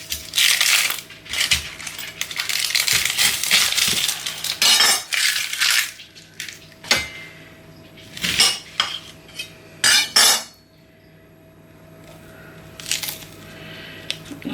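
A knife cuts spring onions into thin slices on a board, with bursts of crunchy rustling and crisp, distinct chops, then quieter scattered taps and clinks after a pause.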